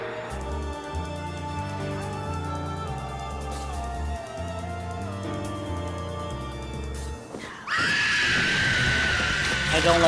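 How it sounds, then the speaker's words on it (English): A shrill scream bursts out in the video game Final Fantasy XIV, cutting in abruptly near the end after several seconds of layered orchestral game music, loud and harsh. "Usually it doesn't come with the scream."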